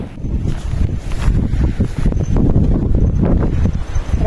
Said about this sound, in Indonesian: Lagi dan lagi, angin mengiringi perjalanan kita.